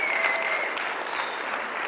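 Audience applause at a content marketing conference keynote (CEX 2024), a steady dense wash of clapping through the whole two seconds, with no speech over it.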